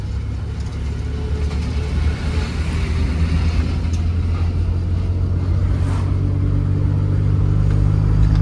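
Car engine droning and revving steadily on a road as vehicles come up to overtake, a loud continuous low rumble that builds slightly over the stretch, with no talk.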